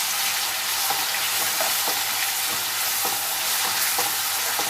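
Curry leaves hit hot oil in a spicy chicken curry and crackle with a steady bright sizzle, while a spoon stirs the pan with soft periodic scraping strokes close up.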